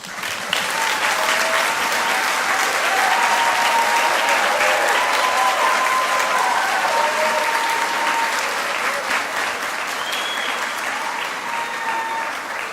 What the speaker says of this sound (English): Let's give these newly pinned future nurses a quick round of applause